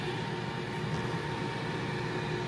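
An Instant Pot Air Fryer Lid runs after start is pressed, a steady close-up whir of fan and blowing air with no change across the few seconds.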